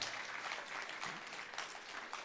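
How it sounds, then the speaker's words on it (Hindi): Audience at a yoga gathering with Swami Ramdev bursts into loud, sustained clapping, a dense wash of many hands filling the whole moment without pause. "एक बार इनके लिए जोरदार तालियां बजाओ।"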